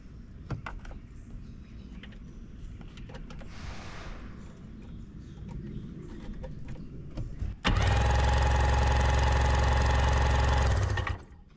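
A flooded personal watercraft engine on a used free jet ski sputters and knocks irregularly, then catches and roars loud and steady for several seconds before cutting off.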